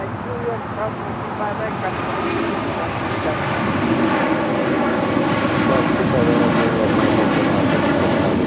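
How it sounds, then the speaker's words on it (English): A Singapore Airlines Boeing 777 departs LAX on the south side, its jet roar a broad, steady rumble that grows louder through the second half, with voices faintly under it. "We should be seeing that Singapore 777, the south side departure"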